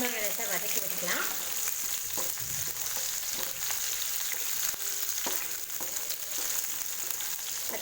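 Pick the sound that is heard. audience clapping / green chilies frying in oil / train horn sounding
green chilies frying in oil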